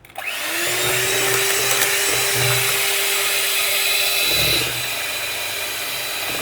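An electric blender whirs steadily as it blends a chocolate ice cream mixture, a loud continuous motor whine that starts abruptly, holds for about four seconds and then eases to a lower hum.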